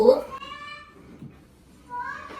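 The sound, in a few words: cat meowing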